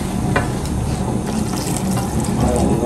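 Hot water pours steadily into a pan for an Assamese fish gravy, a continuous close splashing and filling sound with no talk over it.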